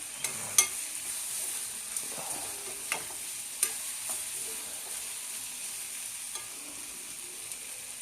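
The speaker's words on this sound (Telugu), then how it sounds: "మధ్య మధ్యలో కలుపుకుంటూ ఉండాలండి, కలుపుకుంటూ ఉండాలి" Tomatoes and onions fry in a pan for egg curry, a steady close hiss of sizzling broken by several sharp clicks and scrapes of a spoon stirring, with no talking.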